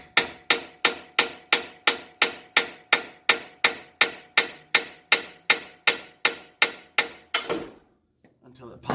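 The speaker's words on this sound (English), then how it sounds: "I'm gonna take my hammer and I'm just gonna tap the bottom of this." A hammer taps steadily on the bottom of a truck's front suspension part, about twenty evenly spaced sharp metallic knocks, then stops, leaving near silence.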